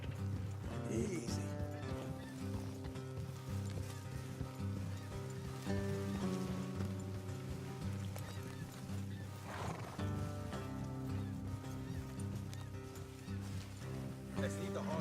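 Horses plodding along in Red Dead Redemption 2, soft hoof clip-clops and an occasional whinny or snort on an off-road trail, sitting under steady background music and ambience.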